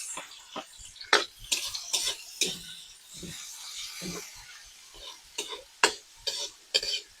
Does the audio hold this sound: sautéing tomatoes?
yes